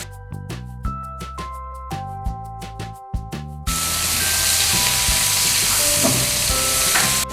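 Green chillies dropped into hot oil for a Kerala fish molee, bursting into a loud, steady sizzle that fills the second half after a run of tonal clinks and taps, with no talking.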